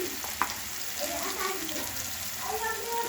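Spices frying in hot oil in a kadai for a dhaba-style kadai paneer, with a steady soft sizzle and one brief clink near the start.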